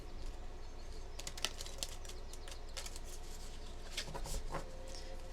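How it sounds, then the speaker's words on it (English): A tarot card deck being shuffled and split by hand gives soft, rapid riffling clicks and flutters in irregular bursts. It is quiet and close, over a low steady background hum. "I am going to go ahead and shuffle and then split one more time."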